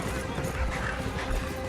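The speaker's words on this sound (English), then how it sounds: "Your horse is challenging for the lead." Racehorse hooves galloping in a horse race, a dense continuous drumming rumble mixed with crowd and commentary-like voices, steady and fairly loud throughout.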